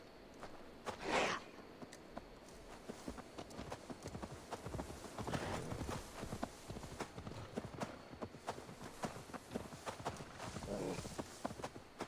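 Horse hooves clip-clop at a steady walking pace in the video game Assassin's Creed Valhalla, close and fairly soft, with an irregular run of hoofbeats and a brief louder burst near the start.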